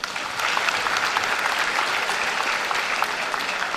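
Applause from a high school graduation audience in Cumberland County, steady dense clapping sustained throughout, moderately loud and filling the hall with no voices rising above it.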